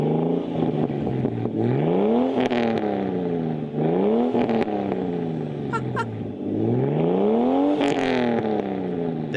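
A Ford XR6 Turbo with the Barra straight-six revs repeatedly, each rise climbing smoothly and then falling back in steady waves, loud and close throughout with no talk.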